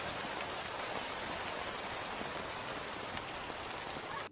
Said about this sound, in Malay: Pada ketika itu hujan turun